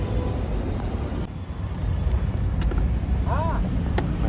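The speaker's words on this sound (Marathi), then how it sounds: "आली गाडी बघा, कॉन्क्रीट घेऊन आली बघा, ट्रान्समिक्सर" A concrete transit mixer truck pulls up to a busy bridge construction site at Kalamboli junction, heard as a loud, steady engine and road rumble with a few brief high squeaks.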